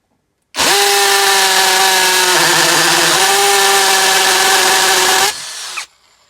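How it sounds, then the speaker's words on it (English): Aldi 40v combi drill hammering into material clamped in a vise, one loud continuous run of about five seconds with a steady whine and rough rattle, briefly dropping in pitch as pressure changes, then tailing off and stopping. "Right, onto hammer action."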